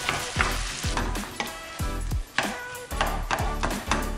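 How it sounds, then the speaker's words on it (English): Ground beef frying in a pan for lasagna, sizzling steadily while a utensil repeatedly scrapes and breaks up the clumps in a rhythmic series of close, loud stirring strokes. "Just mixing it through and breaking up those big clumps of the beef."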